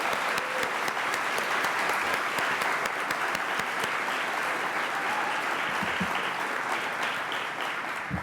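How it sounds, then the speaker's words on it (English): A large conference audience at the New Zealand Game Developers Conference breaks into sustained applause, a dense, even roar of clapping that continues for several seconds with no speech. "applause."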